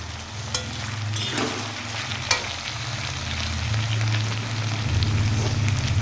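Potatoes and tomatoes fry together in a pan, a loud, steady, close sizzle with a few sharp utensil knocks early on, the hiss swelling slightly toward the end.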